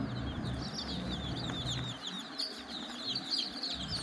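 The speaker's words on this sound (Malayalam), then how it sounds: "അടയിരിക്കുന്ന കോഴിയുടെ കുഞ്ഞുങ്ങളാണ്" Many small chicks of a brooding hen peep continuously in high, rapid chirps close by, with soft rustling underneath.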